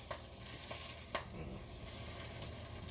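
A frying egg sizzles steadily in a pan, with a few sharp pops and spits of hot oil standing out near the start and around the middle.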